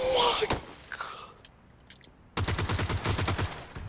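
Video game gunshots: a single sharp report near the start, a brief quiet stretch, then a fast, steady burst of automatic fire, close and loud, with a voice briefly heard at the beginning.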